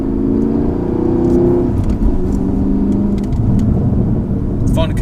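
Chevrolet Camaro SS with traction control off, accelerating through a turn on a modulated throttle: a steady, loud, close engine rumble and whir from inside the car, with a voice talking over it.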